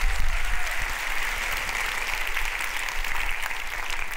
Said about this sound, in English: I think Mike deserves another round of applause.